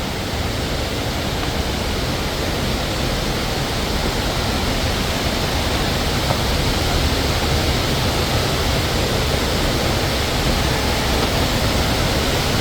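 Falling water roars steadily and loudly as a continuous, unbroken rushing wash with no talking over it.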